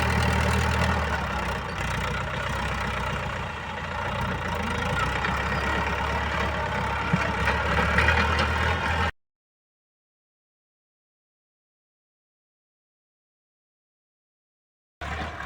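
A Ford 6600 tractor runs steadily while plowing and shaping a rice-field bund, a loud continuous diesel drone for about nine seconds, then silence before the engine briefly returns at the end.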